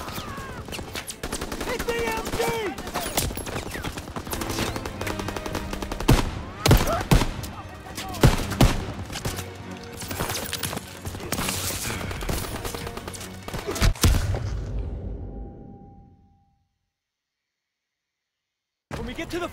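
A machine gun fires from a farmhouse hayloft near a shelled beach in the World War II game Call of Duty WWII, with loud repeated bursts and explosions under shouted voices before cutting to near silence.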